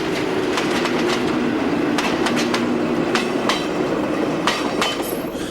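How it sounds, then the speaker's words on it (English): A Portuguese Railways Class 1800 diesel locomotive with its train rolls nearby, with a steady engine drone under rhythmic wheel clicks over rail joints and a faint squeal near the end. "the 1800s sound very similar to, but not quite identical to, a Class 50"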